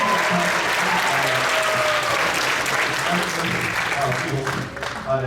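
Parents at a school band concert applauding a seventh-grade bass drum player, with steady full clapping throughout and a voice talking faintly underneath.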